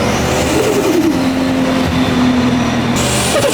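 A Toyota Supra engine revs hard and climbs to a high, sustained pitch, loud and close, then settles slightly before rising again near the end, with no talking.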